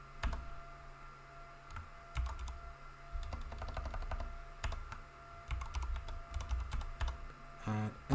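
Password typed on a computer keyboard, close and quiet, with irregular bursts of key clicks and a louder keystroke near the end, like pressing enter.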